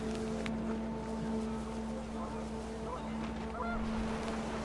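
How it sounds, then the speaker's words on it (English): Panicked geese honk faintly in a windy outdoor video game scene, a few scattered distant calls over a low steady hum and background rumble, with no one speaking. "The wind picked up, and panicked geese appeared and quickly went."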